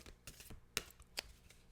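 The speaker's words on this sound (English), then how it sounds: "It's hard to shuffle when I got the microphone so close" Cards being shuffled by hand close to a microphone, with soft riffling bursts and two sharper snaps standing out in a short, quiet burst of activity.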